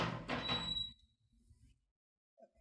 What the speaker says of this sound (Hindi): दरवाजे की आवाज़ आ रही